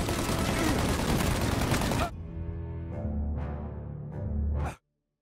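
A dense burst of rapid gunfire crackles in a shootout in the 1930s-set video game Mafia, then cuts to a lower rumble with a few sharp shot cracks before ending abruptly.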